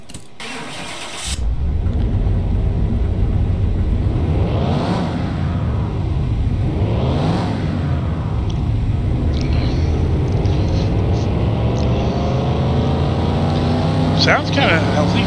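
A 1957 Chevrolet Delray custom car's engine catches after a short crank and settles into a steady, loud idle, with two slow rising-and-falling revs in the middle, running continuously up close.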